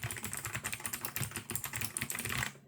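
Fast typing on a clicky blue-switch keyboard: crisp, closely spaced keystrokes that rattle steadily and loudly up close, with no voices.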